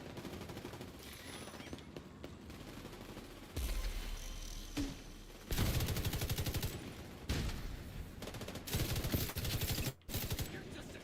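Gunfire in the video game The Division 2, a dense, continuous stream of rapid shots and bursts with some louder stretches, loud and busy, with faint voices mixed in underneath.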